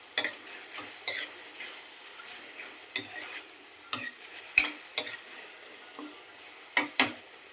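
Tomatoes with salt fry in a pan with a soft steady sizzle, while a utensil scrapes and taps the pan in irregular strokes, close up and without talking.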